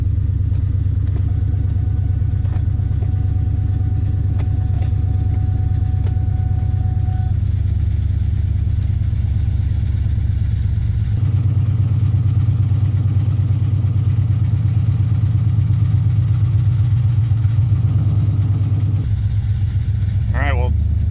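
A 2003 SVT Mustang Cobra engine idles loud and steady, with a rough mechanical clatter and a shift in tone as the car is put into gear, heard up close for the whole stretch.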